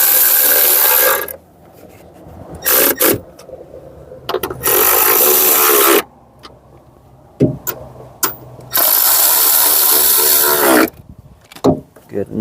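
A power tool drives the wiper motor bolts on a 2003 Chevy Cavalier in several loud, close bursts of high whirring, separated by quieter pauses with clicks and handling noise.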